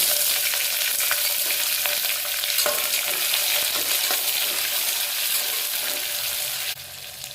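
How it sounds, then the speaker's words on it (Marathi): Onions sizzle and fry in a pan with whole spices, bay leaf and curry leaves for a spiced rice dish, a steady loud crackle with occasional stirring scrapes throughout. "कांदा हा पण चांगला लालसर असा भाजून घेणार आहोत."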